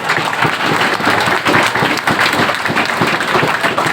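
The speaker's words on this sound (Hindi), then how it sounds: "ये ताली खुद के लिए मत बजाओ अब तक" Sustained applause from a student audience at a coaching academy event in Jaipur, dense, steady clapping filling the space with no voices over it.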